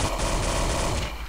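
Rapid automatic gunfire in a Counter-Strike multiplayer match, a brief dense burst of overlapping shots lasting just over a second.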